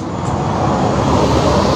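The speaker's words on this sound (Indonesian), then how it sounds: "Bis." A bus passes on a road amid steady, loud traffic rumble, a continuous broad roar of engine and tire noise close by with no pauses.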